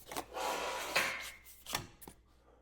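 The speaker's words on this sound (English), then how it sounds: "I'm going to use these pliers to just pull it out the rest of the way." Pliers drag a file out of the tube of a Torquemaster Plus garage door spring, giving a few close scraping, rubbing strokes and a couple of sharp clicks. The sound is quiet, and no one speaks over it.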